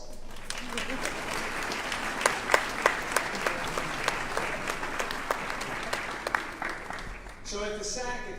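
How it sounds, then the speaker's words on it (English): An audience at a university student activities center rededication ceremony claps loudly and steadily for a group. Individual claps stand out in the dense wash of applause, which fades away near the end. "give that group a round of applause."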